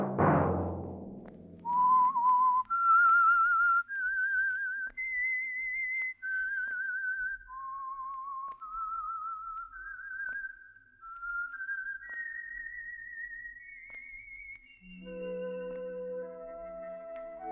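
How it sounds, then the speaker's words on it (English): A clear, solo whistled melody of sustained notes stepping up and down, a radio show signal tune for The Whistler, followed by a low instrumental chord entering at the end. "Let that whistle be your signal for the Signal Oil program"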